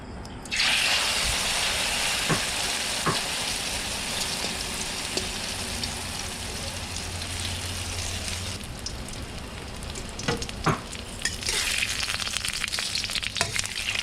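Beaten egg with cha-om leaves hits hot oil in a pan, setting off a loud, steady sizzle that carries on throughout with occasional sharp pops and crackles.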